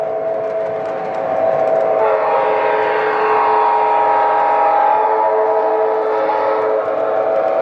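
A Lionel model train controlled by an MTH DCS system runs along its layout toward a tunnel, giving a loud, steady sustained tone like a whistle or horn lasting several seconds over a rolling hum, with no talk.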